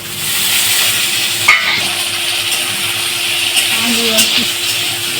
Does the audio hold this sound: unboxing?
no